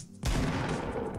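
A burst of rapid video game gunfire starts abruptly and sustains loudly to the end, dense and continuous with no talk over it.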